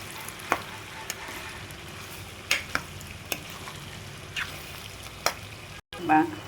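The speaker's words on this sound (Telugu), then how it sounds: "అల్లం వెల్లుల్లి పచ్చిమిర్చి నూరండి వేసి వేయించేటప్పటికి ఆయిల్ కనిపించదు" A ground paste of ginger, garlic and green chilli fries in oil for a potato curry, giving a quiet steady sizzle broken by sharp spoon clacks against the pan. There is a brief dropout near the end.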